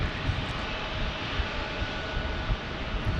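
An airliner waits to take off at San Diego Airport, heard as a steady broadband jet-engine roar held at constant level throughout, with no voices.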